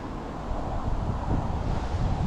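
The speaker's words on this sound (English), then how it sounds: "Wind is not easy to work with." Strong wind buffets the microphone beside the River Severn at Shrewsbury, a steady low rumbling roar that swells slightly in the second half and holds throughout, with no voices.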